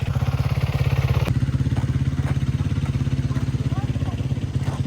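A motorcycle engine throbs steadily at close range on a dirt surface, a low pulsing rumble held throughout as the bike slides in a drift turn, with some faint clatter on top.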